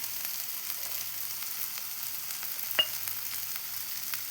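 Curry leaves with turmeric, chili, coriander and masala powders fry in hot oil for a pappadam curry, a faint, steady sizzle close by with one brief louder tap partway through.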